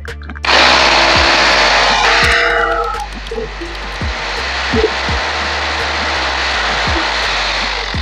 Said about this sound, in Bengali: বন্ধুরা আমাদের ডিল মেশিন দিয়ে 4টা আমরা ডিল করে নিয়েছি।